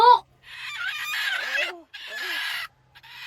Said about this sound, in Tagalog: Pugutan na kasi ang manok.